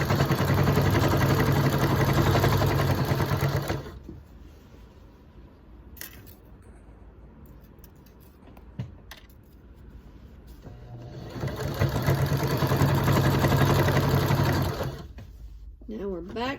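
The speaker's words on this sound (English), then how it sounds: "So we're going to sew until we get to that point where the first stitches started" A sewing machine stitches binding onto a quilt in two long, steady, loud whirring runs, with a quieter gap between them filled by handling noises and a few clicks.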